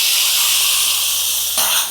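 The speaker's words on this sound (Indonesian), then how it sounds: "Kita tumis dulu udang rebonnya." Dried rebon shrimp sautéing in a hot pan give a steady, loud broadband hiss and sizzle that runs throughout, swelling briefly near the end as the frying intensifies.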